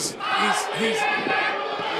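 A wrestling crowd at a championship match roars and cheers steadily, with whoops and shouted voices blending into a dense, continuous wall of noise.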